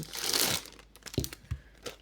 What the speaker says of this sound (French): le but étant de mettre sous la photo un papier déchiré avec notre règle.